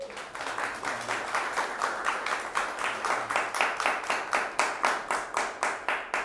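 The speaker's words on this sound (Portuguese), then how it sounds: "Uma salva de palmas" Audience applause for a speaker at an AfroTalks technology event, a steady, fairly close round of clapping with a rhythmic, pulsing feel that runs alone for several seconds.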